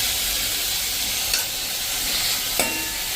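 Tomato and onion cooking in a pan for a bottle gourd kadhi, a steady soft sizzle running throughout with a couple of brief clinks of a utensil.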